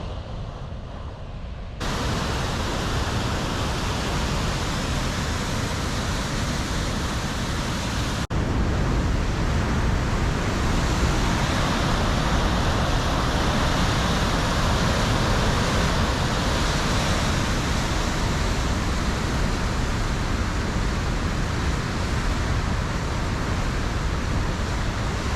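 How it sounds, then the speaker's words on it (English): Water rushing through a constructed outlet channel on the downstream side of a dam, a dense, unbroken roar of turbulent flow that holds steady and loud throughout after a quieter opening moment. "On the outlet side of the dam, the flow races through this channel that they've constructed"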